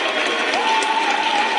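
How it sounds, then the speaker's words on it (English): Brief audience applause at a talk, steady clapping from a crowd with a sustained tone underneath. "Give a round of applause for that"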